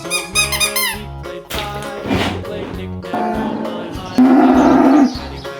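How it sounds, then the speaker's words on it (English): A cow moo plays among a series of short animal and toy-like sounds, with bright tonal squeaks early on and a drawn-out, buzzy lowing call near the end, fairly close and clear. "Cow."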